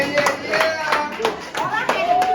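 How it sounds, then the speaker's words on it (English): Audience applause at a premiere show: loud, steady clapping with rhythmic hand strikes, mixed with voices that cheer and talk over it. "give a round of applause for the people who put this together"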